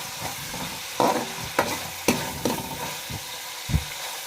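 A pan fries for carrot halwa, each stroke of the spoon scraping loudly over a constant sizzle, with a rhythm of several distinct stirs in quick succession.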